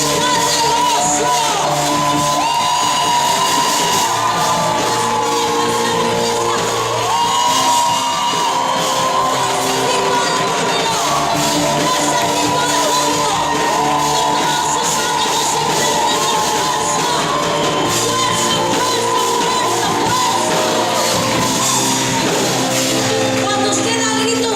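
A church congregation shouts and cries out with joy during a worship service, a dense continuous roar of many voices over a sustained musical drone, loud and unbroken throughout.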